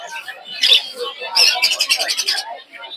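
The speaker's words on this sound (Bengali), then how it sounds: "সুন্দর সুন্দর 2 জোড়া লাভবার্ড পাখি" Lovebirds at a rural bird market in Putiahat, Narsingdi, chirping in quick bright bursts amid crowd chatter and nearby talk, with a rapid run of tweets toward the end.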